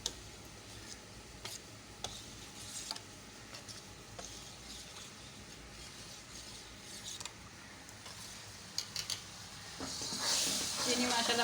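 Semolina being stirred into creamy milk in a pot makes soft scraping ticks and light knocks of the spoon at irregular intervals, fairly faint, with a gentle sizzle rising toward the end.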